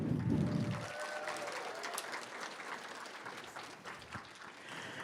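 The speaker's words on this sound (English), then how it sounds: "if I could please have a large round of applause" An audience at a Midsummer Scream panel on the Queen Mary applauds. The dense clapping is strongest at first, then thins into scattered claps and fades to a quieter background wash, with a few isolated claps near the end.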